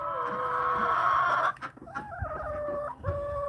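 A farm chicken makes odd squeaky, whistling calls, one long wavering squeal followed by shorter rising and falling squeaks, close and fairly loud against a faint background of other fowl.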